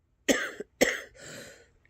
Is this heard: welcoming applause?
no